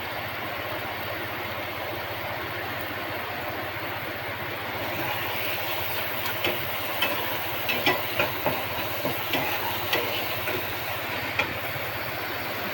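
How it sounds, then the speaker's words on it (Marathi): Onion and tomato frying in a pan with salt, a steady dense sizzle throughout, with a few soft crackles and pops in the later half and no talk. "चांगला भाजून घेऊया कांदा टोमॅटो."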